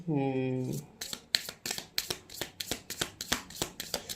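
Tarot cards shuffled by hand, a rapid series of crisp riffling snaps in a steady rhythm, close and fairly quiet, following a short sustained tone at the start.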